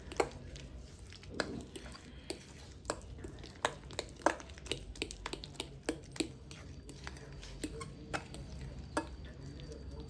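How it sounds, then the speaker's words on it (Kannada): Jaggery powder is worked into mashed banana with soft, faint squishing strokes and occasional light taps against the bowl, all quiet and close. "ಬೆಲ್ಲ ಪುಡಿನ ಕೂಡ ಬಾಳೆಹಣ್ಣಲ್ಲಿ ಮಿಕ್ಸ್ ಮಾಡ್ಕೊಳ್ಳೋಣ."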